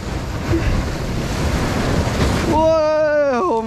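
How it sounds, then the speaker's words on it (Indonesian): Ocean surf washes in steadily as a broad, loud rushing wash with wind buffeting the microphone, heard from a fishing spot by the sea. In the last second a voice breaks in over the noise. "Wah, ombaknya bro."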